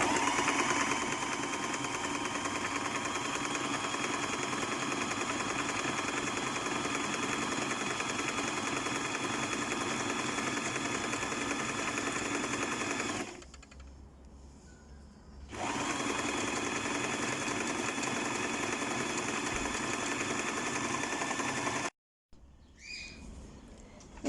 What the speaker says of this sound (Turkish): iğne bir ileri bir geri gidiyor ve dikişi sağlamlaştırıyor